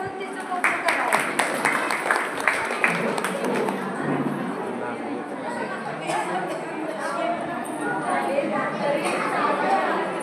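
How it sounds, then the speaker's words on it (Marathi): An audience at a Jain Social Group Father's Day programme breaks into a short burst of clapping that fades within a few seconds, while crowd chatter and a speaking voice continue over it. "सर्वांनी एकदा टाळ्या वाजवून तिचं कौतुक करावं."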